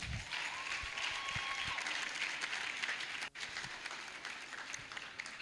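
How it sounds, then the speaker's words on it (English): Audience applause at a women's leadership institute event, a dense, steady clapping that fills the whole stretch at close range with a brief dip near the end and no speech over it. "please put your hands together for her"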